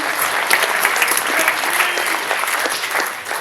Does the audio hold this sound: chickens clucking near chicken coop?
no